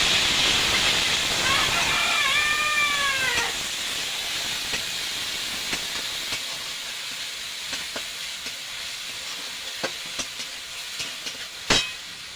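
Onion and garlic paste hits a hot pan with a strong, steady hiss and sizzle that softens after a few seconds into a quieter continuous fry, with a few sharp pops and spits near the end.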